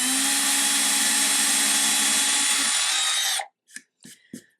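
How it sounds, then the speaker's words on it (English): A power drill whirs loudly and steadily into wood for a few seconds, drilling a shallow starter hole, then stops, followed by a few faint knocks. "And you don't want to drill deep hole."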